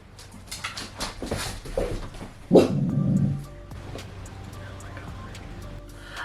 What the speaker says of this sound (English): about to start barking